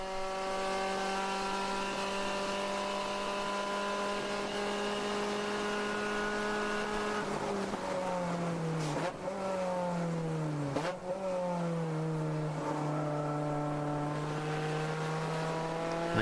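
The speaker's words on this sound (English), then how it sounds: "Nice clean downshifts there." Race car engine during an endurance race at the Pittsburgh Grand Prix, a steady loud drone heard from inside, broken by quick downshifts where the revs blip up and drop back repeatedly before settling again; no talking.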